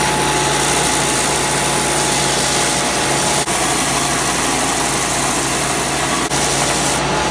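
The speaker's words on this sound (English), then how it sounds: "I just used my belt sander to clean all these edges up" Belt sander cleaning up the edges of wood pieces such as hard maple and bubinga, a loud continuous motor whine and abrasive roar, steady throughout with brief dips, no talk.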